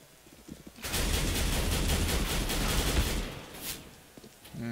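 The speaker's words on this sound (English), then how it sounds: "Okay, I shot him a couple times." Rapid automatic gunfire in the video game CS:GO, a dense loud burst of shots lasting about three seconds, then quieter scattered game sounds.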